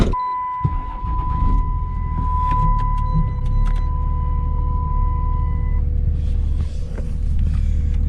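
Pickup truck towing a trailer rolls up and slows, a steady loud engine rumble up close, with a thin continuous electronic tone over the first several seconds.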